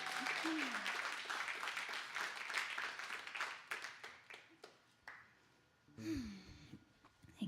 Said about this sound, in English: I love the rogue clap.